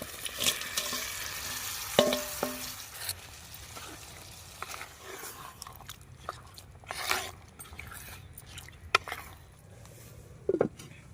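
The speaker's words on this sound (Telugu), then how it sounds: "ఇప్పుడు పారం కోడి మొక్కలు వేసుకుందాం" Layer chicken pieces drop into a curry of chili powder and chicken stock and sizzle with soft, uneven crackling, spoon scrapes and a few clinks throughout.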